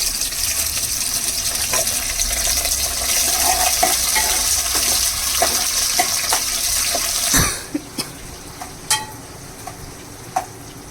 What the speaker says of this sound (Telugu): ఇప్పుడు కరివేపాకు వేస్తున్నా నేను